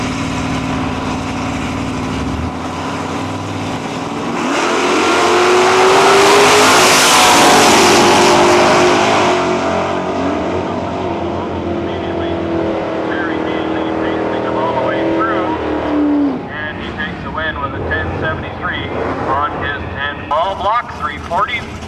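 Loud engines of nostalgia drag racing cars, including a 572 cubic inch 1971 Chevelle, rev and roar as they launch and speed away, swelling to a peak then fading, followed by someone talking over lingering engine noise.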